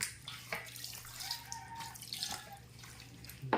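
Water is poured onto pieces of marinated chicken for a wet-dry breading, heard as close, quiet splashing and trickling with small drips, no speech over it.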